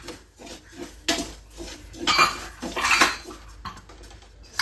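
Nutmeg and cloves being dry roasted in a pan on low flame: close, uneven scraping and clinking of a utensil against the pan in irregular bursts, with no talk.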